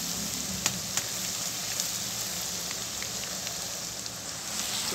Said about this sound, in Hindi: लहसुन अदरक के साथ इसको थोड़ी देर फ्राई कर लेंगे